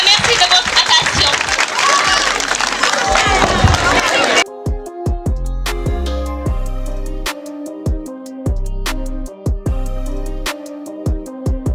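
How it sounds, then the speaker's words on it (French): An audience at a school event honoring a math and physics teacher breaks into dense, loud clapping and crowd noise for about four seconds. The applause cuts off abruptly and gives way to rhythmic music. "Maximum d'applaudissements pour cet homme"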